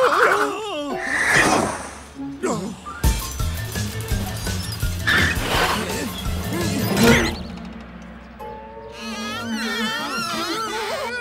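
A cartoon cat smashes into a sheet of glass, giving sharp crash and thwack impacts amid frantic cartoon sound effects and animated character voices.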